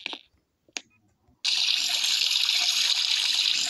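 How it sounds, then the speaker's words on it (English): A home shower turns on after a couple of brief clicks and drips, then runs steadily with a loud, hissing spray of falling water. "I'm gonna shower now."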